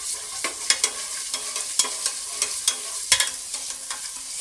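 A spoonful of ginger garlic paste frying in hot cooking oil, giving a steady close sizzle broken by sharp crackles and spoon-scraping stirs at irregular intervals.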